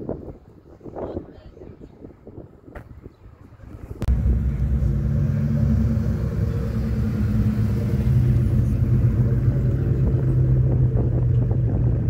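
At a cars and coffee meet, a car's engine roars as it drives off at full throttle, a sudden loud, sustained rumble that cuts in after several seconds of quieter crowd chatter and wind noise.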